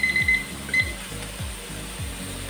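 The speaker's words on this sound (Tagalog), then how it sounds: "Tumunog na ang ating timer." A kitchen timer ringing while igado is cooked, a loud, close electronic ring sounding in repeated regular pulses over a steady background hum, with no voices over it.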